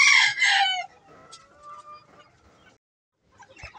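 Japanese mottled bantam chickens at a fancy chicken farm, giving a loud burst of clucking and crowing calls up front, then fainter scattered clucks and bird calls, with a short noisy rustle near the end.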